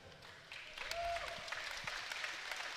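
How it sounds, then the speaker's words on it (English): Audience applause after a Muay Thai fight, a moderate crowd clapping that picks up after a brief pause and carries on steadily, with a faint tone and some background voices. "Clap it up for these fighters, y'all."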